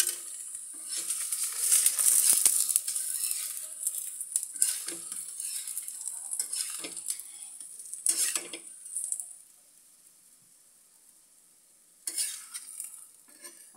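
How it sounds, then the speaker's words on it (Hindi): An aloo paratha fries in oil on a hot tawa with a bright, close hiss and crackle. A spatula scrapes and stirs at intervals, the sizzle fades to near quiet, then flares again. "अब इसमें हम पराठा ऐड कर देंगे, आलू का पराठा, और थोड़ा तेल हम और ऐड करेंगे"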